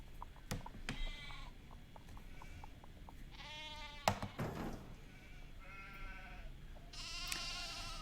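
Sheep bleating in the Nancy Drew video game Haunting of Castle Malloy, several wavering bleats at moderate loudness across the stretch, with a sharp click and faint buzzing insect sounds in the background.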